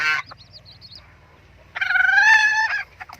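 A brooding hen with her ten newly hatched chicks gives a burst of loud, honking clucks and calls, close by, after quieter soft peeping and low murmuring.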